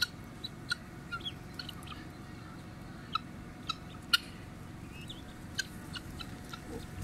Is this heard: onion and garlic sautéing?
no